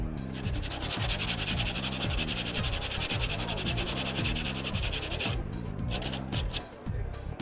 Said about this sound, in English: I'm going to give a little bit of a sand to this wood.